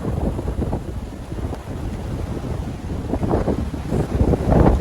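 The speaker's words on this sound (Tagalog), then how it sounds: "Lakas pala ng hangin dito." Strong wind on a farm buffets the microphone in loud, continuous gusts with a deep rumble that swells toward the end; no voices.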